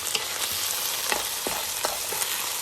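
Rice stirred in hot butter in a pan, a steady close sizzle of frying with soft scraping stir strokes breaking through every half second or so, no voices.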